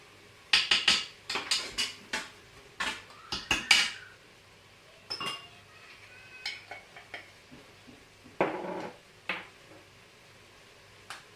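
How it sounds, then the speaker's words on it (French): A small spoon clinks against a Cookeo multicooker pot while spice mix goes in for duck with melon: a close, irregular run of sharp metallic taps and scrapes with short pauses between them, and no talking. "Je mets une petite cuillère comme ça."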